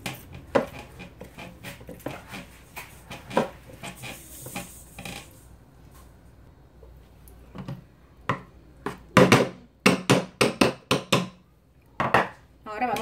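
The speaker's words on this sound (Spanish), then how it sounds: "Y las fresas con un machacador de frijoles las vamos a machacar" Strawberries mashed with a bean masher to release their juice for strawberry lemonade, heard as irregular wet thuds and clacks against the container. The strikes are sparse at first, then come faster and louder in a dense run near the end.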